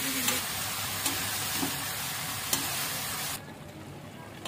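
Stuffed ridge gourds being mixed in a pan give off a dense, loud, continuous sizzle with a few faint scrapes, the frying dropping suddenly quieter near the end.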